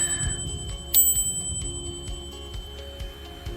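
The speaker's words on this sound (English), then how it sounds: "alerting the pedestrians to a bicyclist behind them using my bell" Bicycle bell rung on a park trail to warn pedestrians ahead, one bright ding with a ringing tail over faint riding noise.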